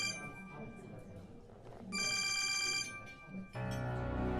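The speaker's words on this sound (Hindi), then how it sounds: "हमारे बाबा का फोन आ रहा है।" A phone rings with an incoming call during a Pakistani drama scene: a bright, loud tonal ringtone sounds for under a second, then a fuller melodic ring continues, with voices murmuring underneath.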